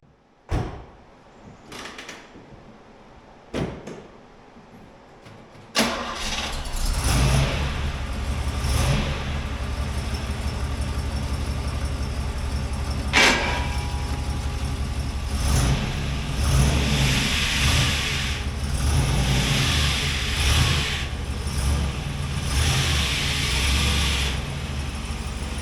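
A 1968 Oldsmobile 442 convertible that sat for 40 years rolls off, its engine revving steadily with a stiff, rough-sounding clutch as it moves, after a few sharp knocks and clunks at the start.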